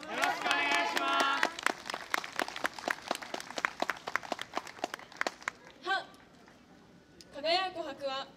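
An audience claps in a steady unison rhythm along with a dance performance at the Hadano Genki Matsuri spring festival. Voices call out at the start and end.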